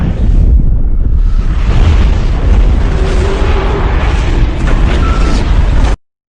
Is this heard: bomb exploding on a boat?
yes